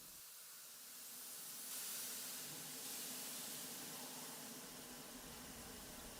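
Steam locomotive venting a long, loud, continuous hiss of steam that swells and holds steady, with no talk.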